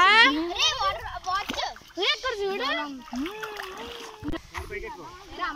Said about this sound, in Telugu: పిల్లలు చూడండి ఫ్రెండ్స్ ఎలా ఆడుకుంటున్నారు వాటర్లో